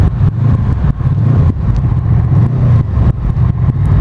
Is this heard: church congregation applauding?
no